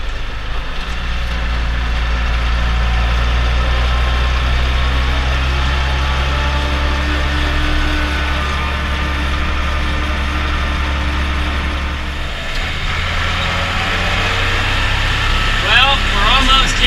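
Truck engine running steadily while hauling a load of corn to the grain elevator, a continuous low droning rumble that shifts slightly as the RPM rises near the end, with a person talking over it.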